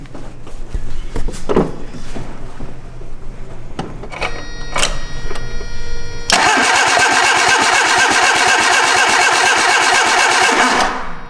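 A car engine cranks over during a per-cylinder check on cylinder one: a few faint starter bumps, then a loud, steady rapid chugging of cranking that holds for several seconds before cutting off.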